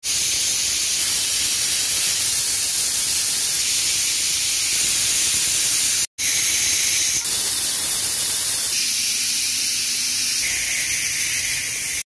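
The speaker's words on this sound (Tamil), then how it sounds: "இப்போது ஆக்சுவலாக விசில் வரப்போகுது." A pressure cooker cooking mutton releases steam in a loud, continuous, close hiss that cuts out for a moment midway and then resumes just as strongly.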